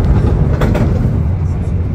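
A Menoreh economy passenger train runs on the rails from Semarang to Jakarta, giving a loud, steady low rumble with faint rhythmic clatter heard from inside the carriage.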